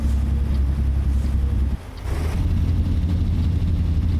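Jake brake on a Freightliner FLD hauling an Old Dominion LTL load in American Truck Simulator: a loud, low, rattling engine drone that briefly drops out, then resumes and rumbles on steadily.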